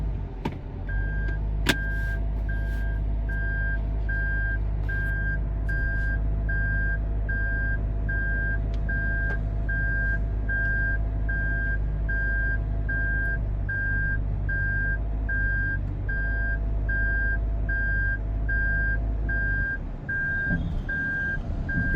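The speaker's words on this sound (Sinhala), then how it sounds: "බලමු අපි ඉස්සරහට අරගෙන රිවර්ස් කරලා." A 2025 Toyota Yaris Ativ Hybrid GR Sport gives steady, evenly spaced reversing beeps over a constant low hum inside the car, continuing for most of the time.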